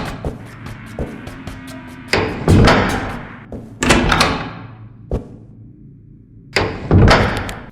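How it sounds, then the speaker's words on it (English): Doors in the horror video game Don't Fret, slow-moving portal doors, heard as a series of heavy, booming thuds and slams with rumbling tails, separated by quieter low clatter, with no talking. "Another big change that we're going to be working on is with the doors."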